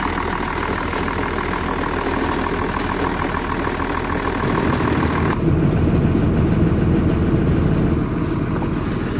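A running engine idles steadily with a continuous low mechanical rattle, close and fairly loud, the tone shifting slightly partway through; it is a machine engine that lost its coolant and may have a failing head gasket.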